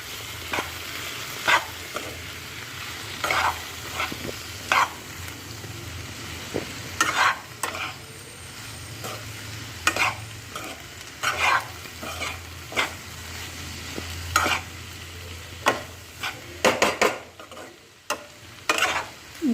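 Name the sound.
stirring capsicum masala in a pan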